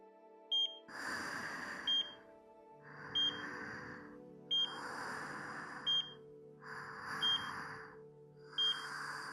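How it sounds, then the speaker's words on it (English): A machine beeps in the video game Chaos;Child with a short high electronic tone repeating at an even pace, about every 1.3 seconds, over a pulsing lower hum, faint and steady with no voices. "The machine was beeping."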